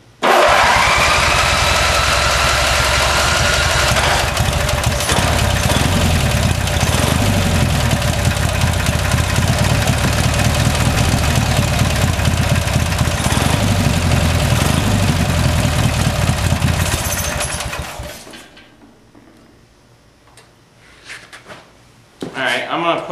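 Briggs & Stratton engine on an old Bolens tractor roars loudly and steadily at close range for about eighteen seconds, then cuts out, leaving quiet handling noises before a brief restart.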